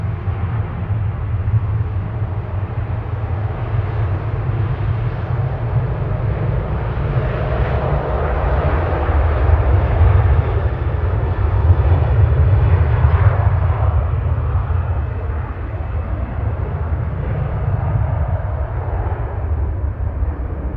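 A Boeing 737-800 at Manchester Airport, a sustained low engine rumble that swells slightly mid-way and holds steady, heard from a moderate distance without talk.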